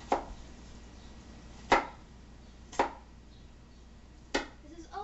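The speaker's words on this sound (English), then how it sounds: "This is also known as dicing a tomato." A knife dices a tomato on a cutting board, four sharp, separate chops spaced irregularly, fairly close, with quiet room sound between.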